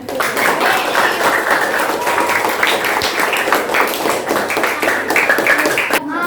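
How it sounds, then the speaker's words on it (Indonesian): A room full of people claps steadily after a group presentation, a busy patter of hands at moderate loudness, with voices mixed in and a brief cheer near the end. "Tepuk tangan untuk Alfian."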